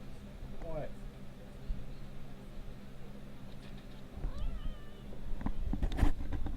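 A cat meows a few times nearby, short rising cries spread across a quiet room with background hum, and a person talks at moments in between.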